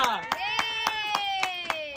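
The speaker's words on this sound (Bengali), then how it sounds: "আর জোরদার তালিয়া" Sharp, evenly spaced hand claps, about seven or eight in two seconds, ring out close by under a sustained voice carrying through.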